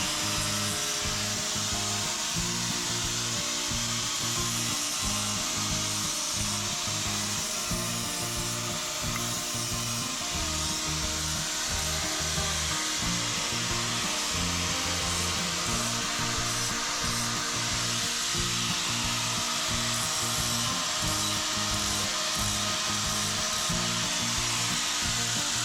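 Abrasive work on a weld bead of a handmade all-stainless-steel truck muffler, a steady close grinding and rubbing whine with rhythmic low pulsing, running continuously without speech.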